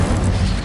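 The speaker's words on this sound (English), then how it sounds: "Incendio!" In Hogwarts Legacy, the Incendio fire spell is cast, a brief, loud, dense roaring whoosh of flame with a low rumble underneath and no pauses.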